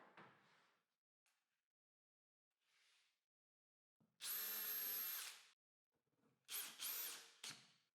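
A power drill drives a screw through a wood piece fastened to the underside of a router plunge base top, in short bursts: a brief whir, a longer loud run, then two more quick spins with faint handling knocks between.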